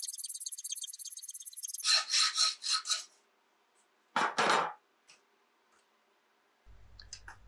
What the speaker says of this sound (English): I'm just going to use a half round file to chamfer the ends of both reins